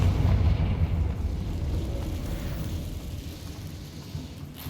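A fiery blasting spell explodes in the Hogwarts Legacy video game, a loud low boom at the start that rolls into a long rumbling decay, with no talking.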